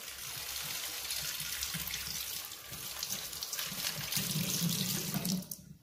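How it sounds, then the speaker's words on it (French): Tap water runs steadily into a sink while makeup brushes are rinsed, a continuous close hiss and splash that stops abruptly at the end, with no voices. "je fais couler l'eau pour rien"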